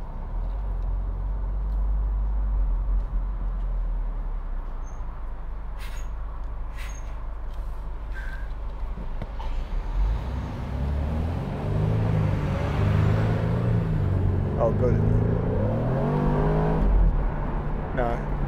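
A 2014 BMW Z4 sDrive28i 2.0 engine rumbles steadily, then rises into a loud, climbing rev as the car accelerates, heard from inside over constant road noise.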